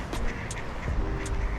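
Penguins in the water give short, nasal quacking calls, three or four in quick succession over a steady outdoor background hum.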